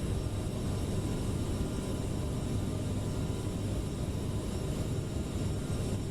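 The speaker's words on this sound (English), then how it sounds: "Airplane does sound pretty good." Aerosoft CRJ airliner engines in a flight simulator game, a steady broadband jet roar with a low rumble that holds constant throughout, with no voices.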